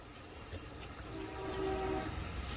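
Goat liver simmers in a pan with added water, a steady close bubbling hiss that swells slightly toward the end.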